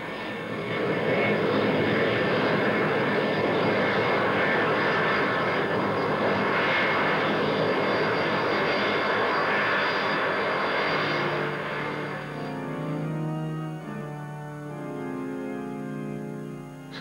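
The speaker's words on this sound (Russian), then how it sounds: "Самолет ведут двое, Анохин и я" An airplane in flight during a weightlessness research flight gives a loud, steady engine drone that fills the whole stretch, easing slightly toward the end where a tonal hum comes through, with no voices.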